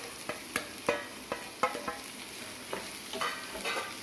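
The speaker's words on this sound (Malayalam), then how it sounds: "ഇനി അതിലേക്ക് നമുക്ക് ഈ മുളപ്പിച്ച ചെറുപയറില്ലേ അതിട്ട് കൊടുക്കാം" Sprouted green gram stirred with onion in a pan, with soft sizzling frying under a series of distinct scraping and tapping strokes of the spoon against the pan, close and fairly quiet.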